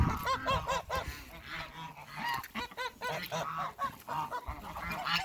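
Farm ducks honk and quack in a busy, overlapping chorus, loud and close with repeated nasal calls and no talking.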